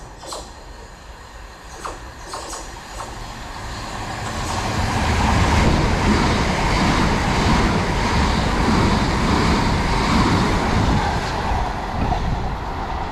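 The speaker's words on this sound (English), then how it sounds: "passing through now is a Southeastern service to Charing Cross from Hastings" A Southeastern train running from Hastings to Charing Cross passes through a station in East Sussex, a broad steady rumble that swells after a few seconds and holds loud as the train moves by.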